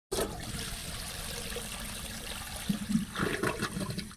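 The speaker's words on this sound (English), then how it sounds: "You should consider flushing yourself down a toilet." A toilet flushes in a Roblox Studio setting, with a steady rushing gush of water and louder gurgling swirls near the end, heard alone.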